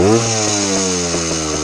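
A Honda MT250 motorcycle engine with a new intake manifold runs steadily up close, a loud, buzzing drone with a slight pulsing waver and no voices.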